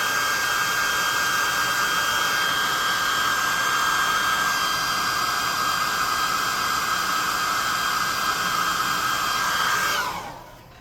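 A hair dryer blows hard on painted miniature spikes and weapons, giving a loud, steady whine and rush of air that runs for about ten seconds and then winds down as it switches off.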